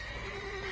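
A horse in The Witcher 3 gives a short, sustained whinny, a single clear neigh heard alone at moderate level.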